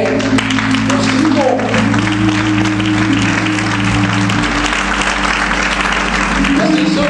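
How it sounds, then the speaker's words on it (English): Congregation clapping along during a church sermon, a loud continuous wash of hands over sustained organ or keyboard tones, with the bass shifting midway and voices mixed in. "Come on, clap your hands"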